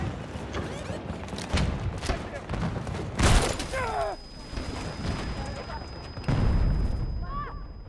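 In the video game Battlefield 2042, several loud explosive blasts burst out amid gunfire and battle noise, with a large boom midway and another near the end, under faint chatter.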